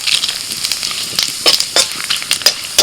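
Bay leaf, dried chilli, fenugreek and whole cumin crackle and sizzle in hot oil for a vegetarian tempering, loud and close, with sharp irregular pops over a steady frying hiss.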